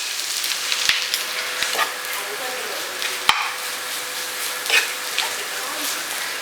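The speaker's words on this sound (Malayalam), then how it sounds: "എണ്ണ ചൂടായി വരുന്നുണ്ട്. ഇതിലേക്ക് നമുക്ക് തേങ്ങ ചേർത്ത് കൊടുക്കാം." Grated coconut dropped into hot coconut oil, a continuous crackling sizzle with a few sharp clicks and stirring scrapes, fairly close and with no talk.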